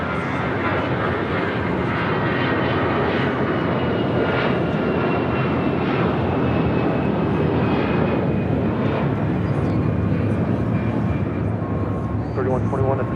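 An airliner departing LAX on a flight to Charlotte roars steadily with broad, continuous engine noise throughout, while voices talk over it.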